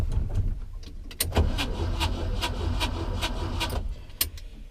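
A 1959 Moskvich 402 car has its engine cranked, a close, steady rough mechanical churn and rasp with a string of rapid clicks and knocks over a low rumble, lasting the whole stretch with no talk.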